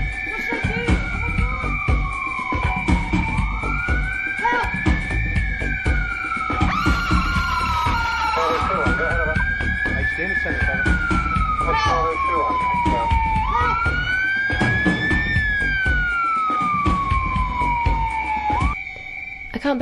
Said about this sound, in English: Alarms, sirens, people shouting and screaming.